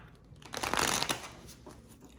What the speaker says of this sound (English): Let me give it a nice shuffle here